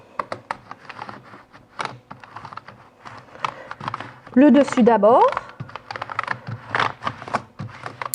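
Computer keyboard keys being cleaned in between, light clicking and tapping scattered through the clip with a brief scraping rattle in the middle, heard under someone speaking French.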